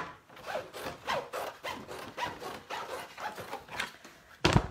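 Scissors or a blade cut through thin cereal-box card in repeated rhythmic strokes, with close scratchy rasping pulses about every half second, ending in a louder sharp snip or rustle.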